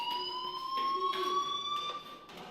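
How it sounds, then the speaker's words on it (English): Fire alarm in the video game Life is Strange sounding a continuous high electronic tone that holds steady throughout, with no talk over it. "Hey, do you hear that fire alarm?"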